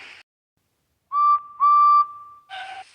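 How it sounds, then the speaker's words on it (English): A railway guard blows his whistle in two bright, steady blasts, the second longer, with brief noise just before and after. "The guard blew his whistle."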